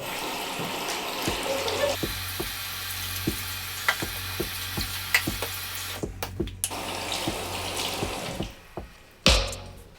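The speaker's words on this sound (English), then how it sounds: "I'm just going to give these bottles a little rinse, especially at the bottom" Water runs and splashes in a shower as bottles are rinsed, a steady hissing spray with irregular knocks and clunks of the bottles, then a louder splash near the end.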